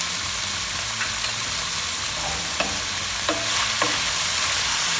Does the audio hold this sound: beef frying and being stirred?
yes